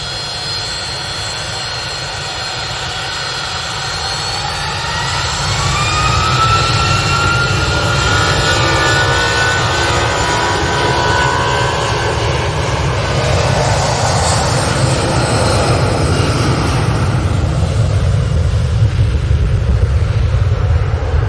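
A Boeing 757 airliner edges forward on the ground at Manchester Airport, its jet engines producing a steady rumble and whine that swells after a few seconds and then holds loud and close.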